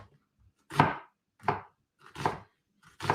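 A knife cuts a red onion into thin slices on a board, four distinct crunchy strokes spaced about every three-quarters of a second, close and crisp with near silence between.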